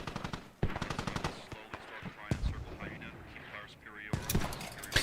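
Video game battle on a five-point capture map, with rapid bursts of gunfire and heavy mortar-like blasts close and loud throughout, mixed with voices talking over the combat.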